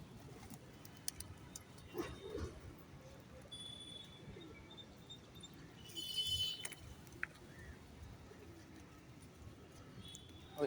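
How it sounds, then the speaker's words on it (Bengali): Pigeons coo softly in an outdoor feeding spot in Newtown, low murmurs recurring through a quiet scene with distant traffic and brief chirps, and a person speaks at moments. "অপূর্ব সুন্দর দেখতে পায়রা"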